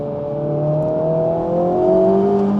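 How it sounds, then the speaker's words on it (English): A Honda Civic Type R FL5 engine pulls on track, a steady rising drone climbing in pitch as the revs build, heard close from inside the car with no talk. "And the engine noise is good too."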